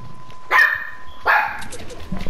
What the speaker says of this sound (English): That big ass dog.